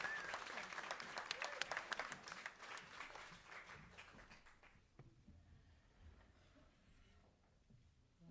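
Applause ripples through a congregation at a Sunday service, a moderate burst of clapping that tapers off within about five seconds into a quiet room.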